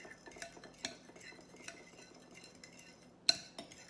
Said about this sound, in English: put it in the egg mixture, and just continue to stir that up